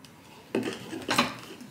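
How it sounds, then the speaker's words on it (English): Dishes and cutlery clink and clatter at a kitchen sink during washing, two brief bursts of clattering over a quiet background, fairly close. "Let's do dishes first."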